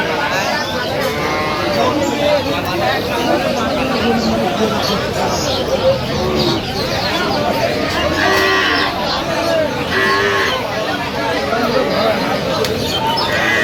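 Dairy cows and calves moo at Aftabganj cattle market in Dinajpur, their calls rising through a dense, steady crowd of chatter and nearby conversation.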